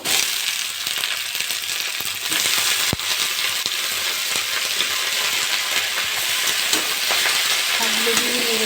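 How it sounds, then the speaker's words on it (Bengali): Leafy greens and onion sizzling in oil in a pan while being stirred, a loud steady frying hiss with scraping stir sounds and a sharp clink near the middle. "পেঁয়াজটা একটু ভেজে নিয়েছি ভালো করে আমি এবার শাকগুলো দিয়ে দেবো"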